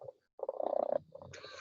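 A robotic toy cat made by Hasbro purrs with a soft, pulsing rumble briefly at close range, followed by a short electronic chirp.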